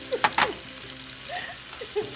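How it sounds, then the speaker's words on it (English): Eggplant and vegetables sauté quietly in oil that has cooled slightly, giving a soft, low sizzle with a few faint stirring and mashing sounds, heard alone without talk. "So we're gonna mash and saute everything here."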